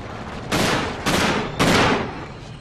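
Three heavy gunfire bursts in the Uncharted 3 video game, each a loud sharp blast with a fading tail, spaced about half a second apart.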